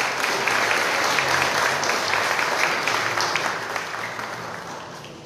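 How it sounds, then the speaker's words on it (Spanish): A loud, steady round of applause from a sizable crowd at an agreement signing ceremony, sustained for several seconds before gradually tapering off. "También le brindamos un fuerte aplauso,"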